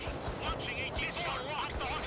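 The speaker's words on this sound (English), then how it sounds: "There's a whole bunch of artillery." Artillery fire in the World in Conflict video game makes a dense, continuous roar of distant booms and rumbling explosions, steady and fairly faint.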